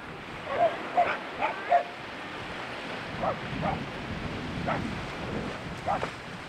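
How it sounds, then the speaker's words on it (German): Impatient dogs on a windy beach give a few short barks and whimpers close by, then quieter scattered yelps over steady wind and surf noise. "Ja, Martin, denke, deine Hunde sind auch schon langsam ungeduldig"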